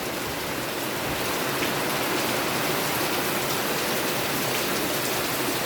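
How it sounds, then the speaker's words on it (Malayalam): Heavy thunderstorm rain pours down steadily and loudly, a dense unbroken hiss of drops drumming on surfaces that fills the whole stretch with no voices over it. "ഈശ്വര, അയ്യോ മഴ കൂടുന്നു."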